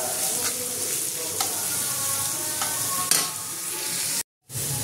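Steady close sizzling as food fries in a pan for an egg shakshuka, with a few light utensil taps and a brief dropout near the end.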